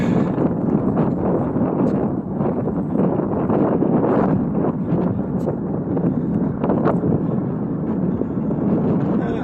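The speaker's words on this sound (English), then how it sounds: "A little windy up at the top of the hill." Steady, loud wind buffeting the microphone on a hilltop in King's Square West park, Saint John, New Brunswick; a continuous low roar with gusty fluctuations throughout and no voices.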